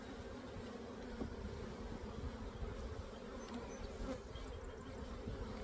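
Honey bees buzz steadily at a hive, a continuous soft droning hum with individual bees passing close now and then, faint overall and with no voices.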